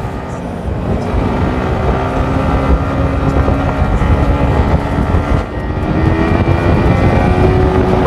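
KTM motorcycles race along a highway, a loud continuous engine roar mixed with heavy wind rush, close to the microphone, with no clear talk.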